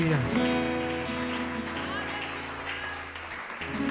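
A church congregation claps along during a worship service, steady clapping blended with music and voices throughout.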